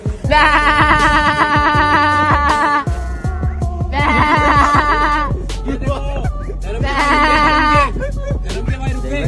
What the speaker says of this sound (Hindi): नीचे देखो बकरी चल रही है, अभी रुकवाता हूं उनको